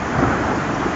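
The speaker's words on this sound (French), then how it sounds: "il y a des explosions de tonnerre comme ça" Thunder rumbling through a thunderstorm, a steady low broadband roar with a slight swell early on, blended with a continuous rain-like hiss and no voices.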